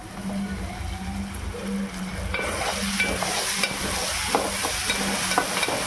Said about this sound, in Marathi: त्याला व्यवस्थित जरा परतून घेऊ